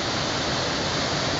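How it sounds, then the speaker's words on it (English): Waterfall splashing beside a woodsy ledge trail in Colorado's San Juan Mountains, a close, steady, loud broadband roar of falling water that holds unchanged throughout. "then you get down to this waterfall here"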